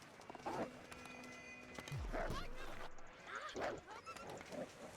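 A wolf in The Long Dark snarls and growls in rough, low bursts, fairly close, with a brief descending tone cutting in midway.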